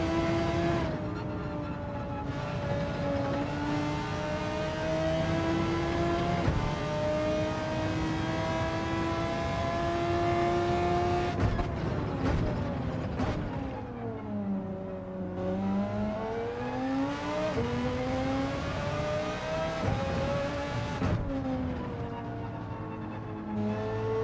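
An Audi R8 engine in Gran Turismo 7 drones and revs continuously while racing around a track, pitch rising through the gears and dipping sharply on downshifts, loud and steady with no talk.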